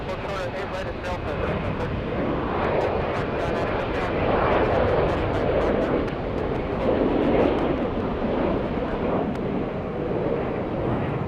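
Airbus A350 jet at Atlanta Hartsfield-Jackson airport, a broad continuous engine roar that holds steady throughout at close range, with some wind buffeting on the microphone.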